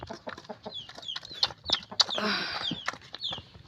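Chickens forage in a rice field after harvest, giving faint clucks and short squawks among scattered rustling and a burst of wing flapping, all heard at a distance in open air.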